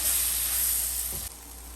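Steady high sizzle of chili powder frying in hot oil for a spicy sardine curry, close by, easing off briefly near the end with no voices.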